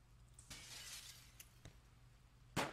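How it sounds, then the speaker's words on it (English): Breaking glass in the stealth video game Gunpoint: a faint initial shatter followed by scattered tinkling shards and small clicks, then a second sharp, bright crash near the end, all quiet and without talk. "they hear you when you break the glass"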